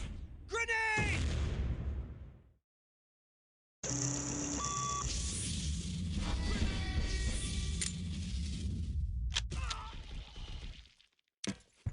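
A grenade explodes in the shooter game Soldier of Fortune 2. Loud, heavy booms fill most of the span, with a short silent gap after an opening burst and a sharp electronic tone near the end.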